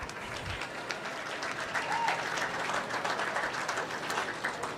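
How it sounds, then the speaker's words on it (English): Audience applause at an outdoor county fair swine show, a steady wash of scattered clapping across the whole stretch, moderately distant and fairly soft, with a faint tone and background murmur underneath. "give them a round of applause"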